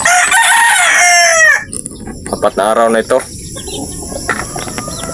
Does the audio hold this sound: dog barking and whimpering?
no